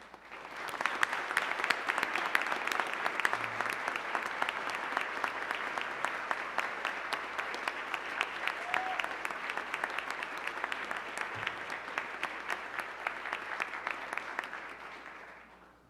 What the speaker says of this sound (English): Can we all give the candidates one last round of applause